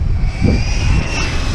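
A Team Magic Seth 6S RC truck races toward a hill, its electric motor giving a loud, high, steady whine with a brief surge. The sound is close and continuous, with no talk over it.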